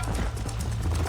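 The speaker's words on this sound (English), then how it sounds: "You're gonna wear that horse out." Rapid horse hoofbeats in the video game Red Dead Redemption thud in a quick, even galloping rhythm over a low rumbling background, brief and close.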